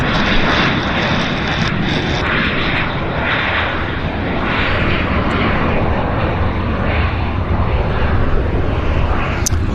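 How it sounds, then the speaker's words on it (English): WestJet 2152, an airliner bound for Puerto Vallarta, turns onto the active runway at Vancouver airport, its engines giving a loud, steady roar that holds without a break throughout. "It's the WestJet 2152, turning onto the active right now."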